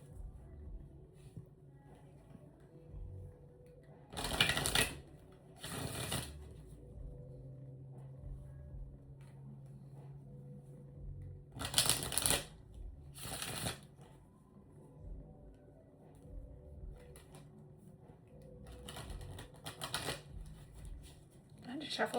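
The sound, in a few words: shuffling tarot cards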